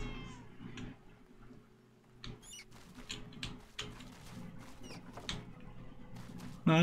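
A cat in the video game Throne and Liberty meows a few times amid soft scurrying and pattering game sounds, with a louder burst at the very end.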